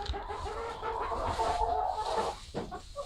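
Golden Comet hens clucking and murmuring inside a chicken coop, close and fairly quiet, a soft continuous chatter with a few sharper clucks near the end.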